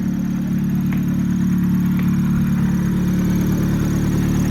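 A 1993 Honda Civic hatchback with no exhaust runs at a steady, loud, raw drone that holds constant throughout, heard close with no talking.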